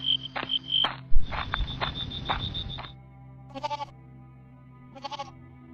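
A goat bleating in a cartoon, several wavering cries, the first few loud and close over a jingling tone, then two shorter bleats after a pause.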